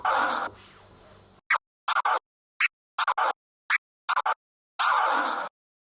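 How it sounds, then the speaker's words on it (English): A DJ on a turntable alternates stab scratches with forward crab scratches using the crossfader: longer swooshes open and close the run, and between them come clusters of fast, choppy cuts separated by dead silence. "So those together alternating go stab to crab."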